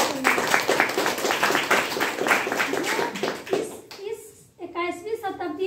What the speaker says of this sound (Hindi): उनके लिए एक जोरदार ताली होना चाहिए।